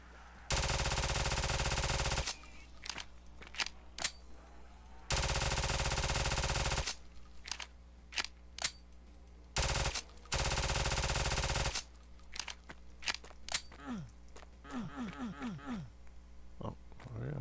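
A Silence 9 gun in a DOOM and Call of Duty Tarkov mod fires in long, loud, rapid automatic bursts, separated by shorter clicks and mechanical noises, with chirpy squeals near the end.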